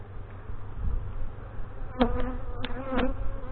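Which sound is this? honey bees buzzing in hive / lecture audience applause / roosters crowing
honey bees buzzing in hive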